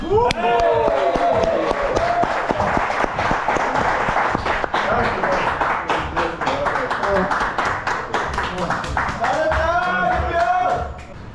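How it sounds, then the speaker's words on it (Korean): A ringside crowd at a boxing-style match applauds both fighters in a long, sustained wash of clapping with sharp individual claps, while voices talk and call out over it throughout. "큰 박수 한번 부탁드립니다"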